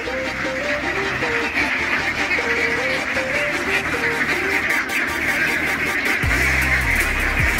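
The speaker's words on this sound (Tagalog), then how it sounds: "karami yung mga itik." Many ducks quack together in a dense, continuous chorus on a duck farm, loud and close, with a low engine-like hum beneath and a brief low rumble near the end.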